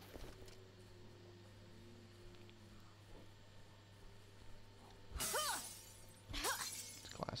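Glass shatters twice in the Dead Island video game, two sharp bright crashes about a second apart near the end, loud against a quiet background hum.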